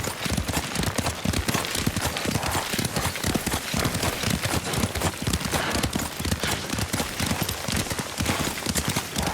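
Rapid horse hooves clip-clop continuously at a steady gallop in Ghost of Tsushima, dense and close, with no pause throughout.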